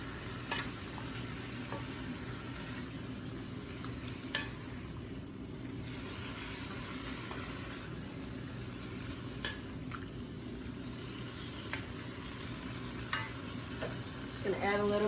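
Pollo guisado being stirred in a pot, a soft continuous sizzle and simmer with occasional light scrapes and clinks of a utensil against the pot, steady and close.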